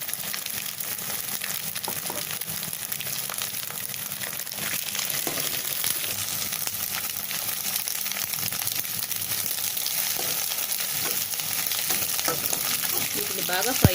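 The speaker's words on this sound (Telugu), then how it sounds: "వీటిని బాగా ఫ్రై అయ్యేంత వరకు వేయించుకోవాలి." Green chilies, onion and carrot pieces frying in oil for egg fried rice, a constant crackling sizzle with stirring scrapes that grows slightly louder over the span.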